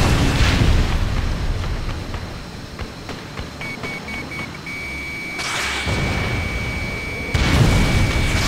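A destroyed tank explodes in the Ace Combat Assault Horizon combat flight game with loud low booms, followed by sustained rumbling and an electronic tone, alongside further blasts near the end.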